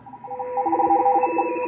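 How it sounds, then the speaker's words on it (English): Radio teletype (RTTY) signal received on an Icom IC-7300 transceiver: a steady two-tone warble that switches rapidly between a pair of pitches in a busy digital chatter over faint background hiss, with no voices. "What it is radio teletype, RTTY."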